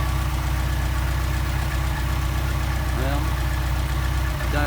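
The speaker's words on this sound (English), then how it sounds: "dialed back on the idle screw and the idle went up" A car engine fitted with a Solex carburetor idles steadily and loudly after its idle screws are adjusted, a constant close thrum with a faint knocking pulse and brief voice underneath.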